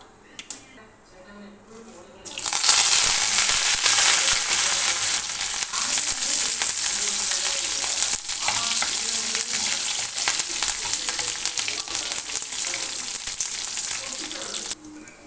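Loud, steady sizzling of chilies and curry leaves frying in hot oil, starting abruptly after a quiet moment and continuing with crackling throughout.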